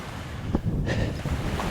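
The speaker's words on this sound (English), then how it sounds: "the rustling of waves rolling onto the sand there on the beach" Waves roll onto a sandy beach on Heir Island, a soft continuous wash of surf mixed with breezy wind rumble, fairly close and steady for a couple of seconds, no voices.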